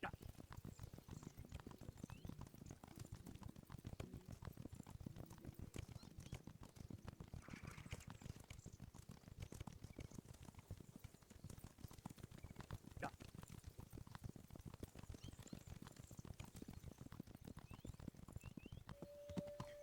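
Steady clip-clop of horse hooves at a trotting rhythm in Kingdom Come, quiet and continuous, with a brief whinny partway through.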